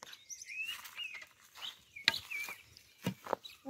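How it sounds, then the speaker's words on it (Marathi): Birds chirp and sing outdoors in a village, with several bright, quick calls coming close together over quiet surroundings and a few soft patters and rustles in between. "पक्ष्यांचा आवाज बघा."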